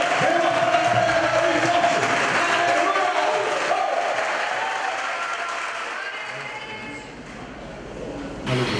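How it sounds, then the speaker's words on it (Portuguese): Congregation at a church congress gives loud, sustained applause with crowd voices and cheering mixed in, gradually easing toward the end. "Dê um forte aplauso a Ele nessa noite."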